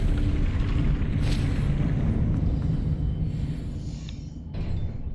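A Confringo fire-blast spell from the video game Hogwarts Legacy erupts as a heavy, sustained booming rumble with a crackling burst, loud and dense throughout, fading slightly near the end before another surge.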